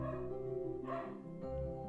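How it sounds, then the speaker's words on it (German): A dog gives a couple of short, yelping barks over a steady tonal hum, close and fairly quiet. "Dieser Hund!"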